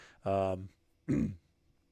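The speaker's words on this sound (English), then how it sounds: "it's really hard not to clear your throat" Two short, throaty bursts a moment apart, the first rougher and longer, the second a brief rasp, close and fairly loud, like someone clearing their throat.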